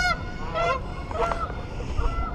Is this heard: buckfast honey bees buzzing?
no